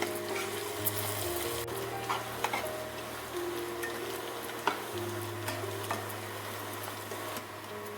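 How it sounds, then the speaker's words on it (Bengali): Onions frying steadily in a pan for a Bengali kasundi dish, a continuous close sizzle with occasional stirring clinks and ticks, no talk. "পেঁয়াজটা কিন্তু একদম লাল করে আমি ভেজে নেব।"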